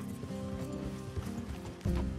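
Horse hooves clip-clop at a steady walking rhythm in Red Dead Redemption 2, close and fairly quiet, with a heavier thud near the end.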